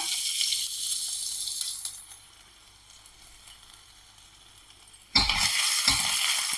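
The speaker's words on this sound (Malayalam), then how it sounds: "അപ്പൊ അത് ചൂടായിട്ടുണ്ട് അതിലേക്കൊരു അഞ്ചാറ് വെളുത്തുള്ളി ചതച്ചത്" Crushed garlic hits hot oil, giving a steady bright sizzle that eases off, then a sudden loud burst of crackling frying near the end, with no voices.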